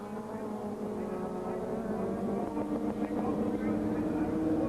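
Touring race cars, including an Audi and a BMW E36 320, race past at Spa-Francorchamps in dry, overcast conditions, a continuous mid-pitched engine roar running under a commentator's voice throughout.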